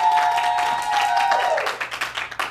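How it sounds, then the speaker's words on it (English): A short burst of applause for a remake, dense and steady, with a sustained tone running over the first part before it thins into scattered claps near the end. "let's have a round of applause for that"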